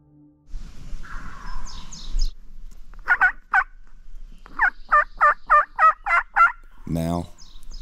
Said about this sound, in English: I want him to gobble twice before I call again.